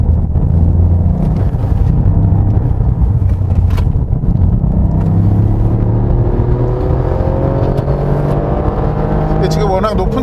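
A Toyota GR Yaris engine drones loudly and steadily at low revs on a winding mountain road, heard from close by, its pitch slowly climbing toward the end.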